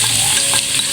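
Hotdogs go into a hot pan for Filipino-style spaghetti, with a steady oil sizzle and the brief scrape of stirring, close and continuous with no talking.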